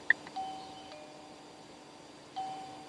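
An Aosu wireless video doorbell pressed indoors, giving a short click followed by a soft electronic chime tone, then a second matching chime a couple of seconds later, clear against a quiet room.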